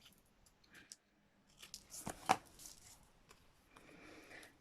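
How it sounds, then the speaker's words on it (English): Craft material having a small corner snipped off with scissors, a few quiet close cuts and crisp snips in an otherwise hushed space. "I will cut off that corner there, I think."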